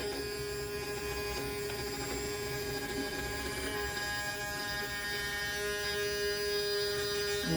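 A small portable sewing machine switched on, its motor running as a steady, continuous buzzing whine with tonal hum, unchanging and close for the whole stretch, with no voices.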